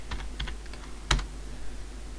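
Fingers type a hostname into a terminal on an Ubuntu Server 12.04 machine. A few soft, close key taps come in quick succession, with one sharper keystroke standing out near the middle.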